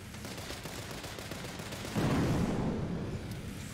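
Cannon fire in the video game Boom Beach: Frontlines, a sudden heavy blast partway through that rumbles on over steady game background noise.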